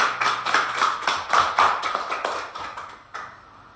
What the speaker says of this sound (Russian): Давайте поздравим аплодисментами.